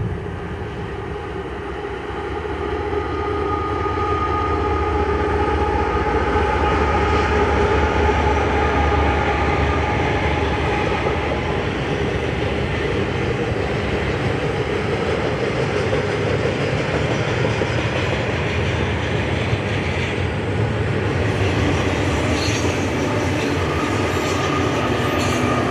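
A freight train rolls past close by near Tehachapi, a steady loud rumble of wheels and railcars with occasional squeal and clickety-clack, sustained for the whole stretch with no talking.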